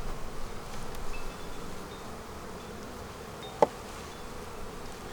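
Honey bees buzz around an open hive in an outdoor bee yard on a mild day, a faint, steady hum of many insects with one brief tap.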